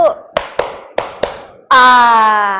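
In a classroom clapping game, a few sharp, separate hand claps sound at uneven intervals, followed by a sustained sung or spoken vocal tone.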